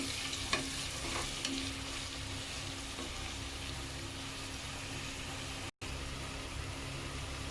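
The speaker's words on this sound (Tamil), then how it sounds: "பிரியாணிக்கெலாம் பார்த்திங்கன்னா வெங்காயம் நல்லா ஃப்ரை ஆகணும். அதனால் கொஞ்சம் டீப் ஃப்ரை பண்ணுங்கள்." Onions deep frying in a pan for biryani make a steady, soft, close sizzle and bubble, broken once by a brief dropout, with no speech.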